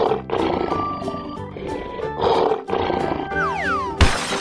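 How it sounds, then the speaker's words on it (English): Lion roaring in a children's animal-painting cartoon, loud sustained growls over cheerful music, followed by a descending cartoon whistle and a bright crash at the end. "Lion."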